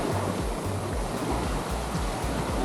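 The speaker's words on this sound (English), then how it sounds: "I love this beach. I haven't seen a natural beach like this" Ocean surf washes onto a natural beach at Cahuita, Costa Rica, a continuous broad roar of breaking waves with a faint rhythmic low pulse, no voices.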